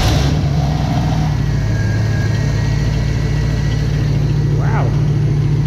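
A 1977 Pontiac Trans Am V8, its choke just adjusted, turns over and runs with a steady, loud, close idle rumble throughout, and a faint higher whine rises briefly near the end.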